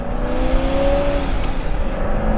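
A Ferrari 488 Spyder's engine with straight-pipe exhaust growls loudly on the road, a close, rough roar with rising and easing rev tones over rumbling road noise.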